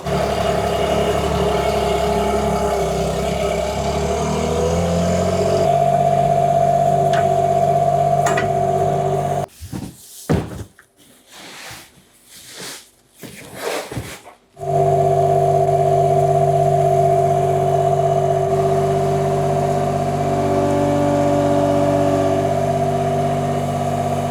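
A vehicle engine drones steadily at close range, its tone climbing as it pushes into mud. The sound cuts out into choppy, broken noise for a few seconds midway, then the engine resumes.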